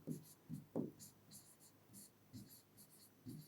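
Writing on a board, irregular scratchy strokes in short bursts, faint and close, with quiet speech-like sounds mixed in.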